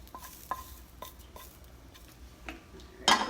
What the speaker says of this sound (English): make sure you kind of step back because it's gonna kind of sizzle in here